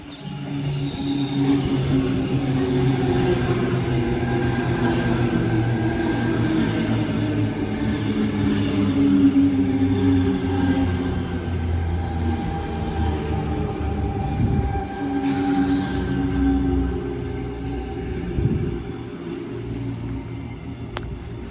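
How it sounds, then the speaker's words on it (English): Train passing through Erskineville station without stopping during the afternoon peak: a loud, rumbling roar of wheels and carriages on rails lasting over twenty seconds, with brief squeals and clatter near the end, no talk. "The next train to arrive on platform 3 does not stop at this platform."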